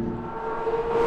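A 2023 Porsche 911 GT3 RS flat-six engine with six individual throttle bodies hums in a steady tone that rises and grows louder toward the end, with no talk.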